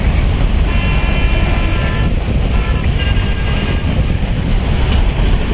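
A Pakistan Railways freight train rolls past on the track near Wazirabad station, a continuous loud rumble and clatter of wagons with faint tonal squeals, wind buffeting the microphone.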